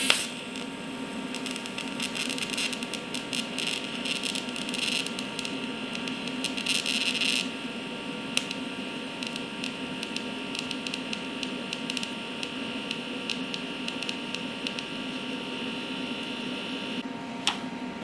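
TIG welding arc from a Bestarc Tig215P AC/DC welder, amperage controlled by foot pedal, a steady high-pitched buzzing hiss with crackling spikes, continuous for the full stretch with a brief dip near the end.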